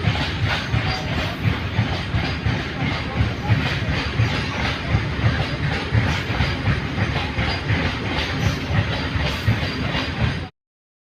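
A long freight train rumbles past steadily with rhythmic clattering of wagons on the rails, loud and close throughout before cutting off at the end.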